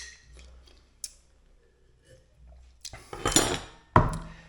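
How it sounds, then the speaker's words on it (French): A spoon clinks and scrapes against a glass or bowl, stirring sugar into lemon juice for a cuba libre, starting with a few faint taps and building to louder, rapid clatter near the end, with no talking. "Tu prends ton sucre, tu le fous avec le citron, tu mélanges un petit peu."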